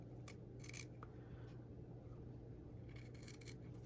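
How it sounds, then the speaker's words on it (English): Scissors snip through paper while cutting out a square for a junk journal, giving several quiet, close crisp cuts in small clusters over a steady low hum. "I think I'm just going to cut a square."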